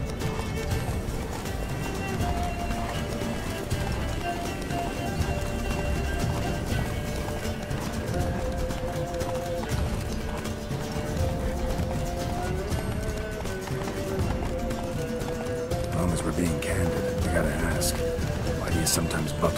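Roach, the horse in The Witcher 3, gallops with steady hoofbeats and an occasional whinny, heard under continuous music and game ambience while voices talk over the ride.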